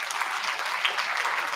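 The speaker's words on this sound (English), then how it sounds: "Round of applause for these 10 students." Brisk round of applause from a room of college students at an induction program, a close, lively patter of many hands that holds steady throughout.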